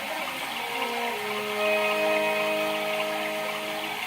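An electric motor pump at a farm borewell starts up and runs with a steady, loud mechanical whine, its tone rising slightly as it settles into a continuous hum with no talk over it.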